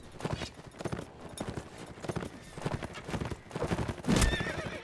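Horse hooves clatter in a fast gallop through a Mount & Blade: Warband battle, with a loud whinny near the end amid busy game noise.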